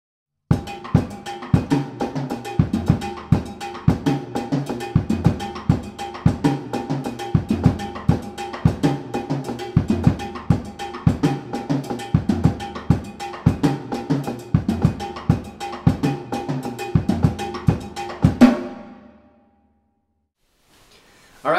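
A drum kit plays a steady, repeating groove with crisp, regular hits and a ringing metallic accent on each pulse, close and loud, then stops abruptly near the end with a brief silence.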